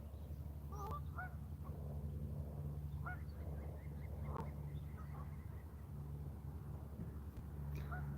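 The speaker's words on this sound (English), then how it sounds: "Got stinking seagulls flying around somewhere." Seagulls call in the distance at a winter carp fishing spot in Pennsylvania, several faint squawks scattered over a steady low hum of background noise.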